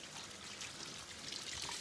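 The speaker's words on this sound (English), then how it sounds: "Now let's clean this with hot water." Hot water is poured over a cow stomach to clean it, making a short, soft, continuous trickling and splashing sound heard alone at close range.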